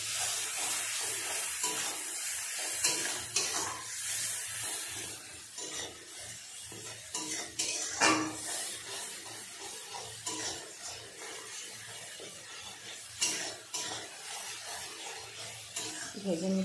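Onions frying in a pan for a meat curry: a continuous close sizzle with rough scraping and stirring, under a talking voice.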